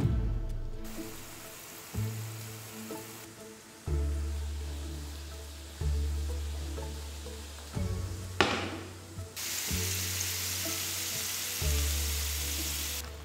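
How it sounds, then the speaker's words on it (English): Potato balls fry in olive oil in a preheated skillet, a soft steady sizzle that swells each time they are stirred or turned, heard alone with a few clinks of the pan. "Begin to fry the potato balls."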